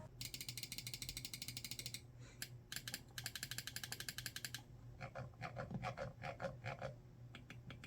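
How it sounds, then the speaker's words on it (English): Bursts of rapid, crisp mechanical clicking from a SteelSeries Prime mouse come in fast repeated runs with short pauses between them, close and fairly loud. "Speaking of the clicks, let's hear what the mouse sounds like"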